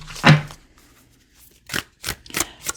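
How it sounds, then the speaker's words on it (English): A deck of Moonology Manifestation oracle cards is shuffled, one riffle near the start and then a few quick brushing bursts close by in a quiet room. "So let's give it one more shuffle."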